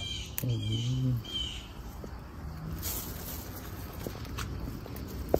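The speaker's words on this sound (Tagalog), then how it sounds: "Ibon na yun. Masyadong maingay." A bird gives a loud, harsh cawing call up close, followed by quieter background sounds and faint distant calls.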